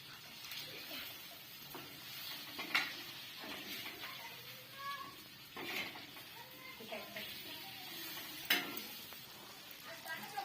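Chicken fries in an iron pan with a steady faint sizzle and occasional scrapes and taps of stirring, while people talk quietly over it.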